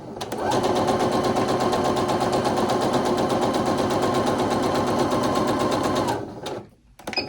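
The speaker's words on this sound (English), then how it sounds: "we're gonna just keep sewing 1/4 of an inch all the way around" A sewing machine runs steadily, stitching a quarter-inch seam around a fabric soup bowl cozy, its rapid even needle rhythm close and continuous for about six seconds before stopping abruptly.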